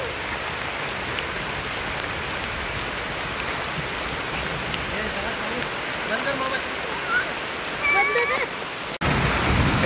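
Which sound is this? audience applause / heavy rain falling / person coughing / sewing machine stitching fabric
heavy rain falling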